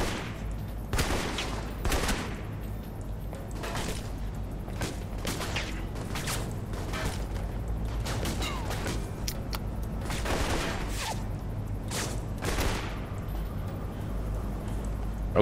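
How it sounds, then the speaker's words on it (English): Near-constant gunfire in the video game Alpha Protocol, rapid bursts and single shots repeating over a steady low rumble, loud and close throughout with no speech. "We're just shooting our way through everything."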